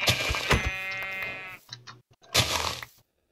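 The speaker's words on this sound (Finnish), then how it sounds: "Ja lammas sä sä et oo pelottava lammas." Sheep bleating in the video game Minecraft, one long loud wavering bleat followed after a short pause by a second shorter bleat, close and clear with no talk.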